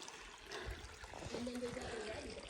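A creek flows at a hiking trail crossing in a canyon near Sedona, with a faint, steady trickle and splash of water beneath voices talking in the open air.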